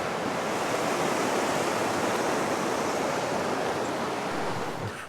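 Steady, dense rushing of a river in Alaska flows on without a break, a broad continuous roar with no voices.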